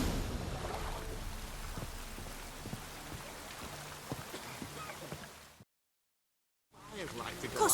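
Steady rain in The Witcher 3 patters and hisses with occasional drips and thuds, cutting to silence for a moment before resuming.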